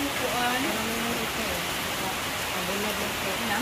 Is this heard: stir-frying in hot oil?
no